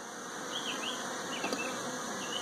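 Bees buzz in a dense, continuous drone, with individual insects whining past close by now and then.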